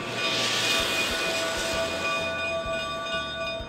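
A Durango steam train makes a short winter run toward a coal loading area, a steady low rumble of running gear under a faint high whine, continuous and moderately distant.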